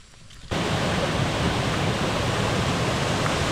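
Steady, loud broadband roar of a waterfall on Lombok, Indonesia, that starts abruptly after a short quiet moment and continues without a break.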